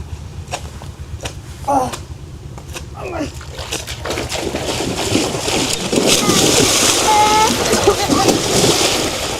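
Water splashes onto someone at a school in a playful scene, with repeated sloshing splatters building into a loud, steady wash of water while voices talk and shout throughout.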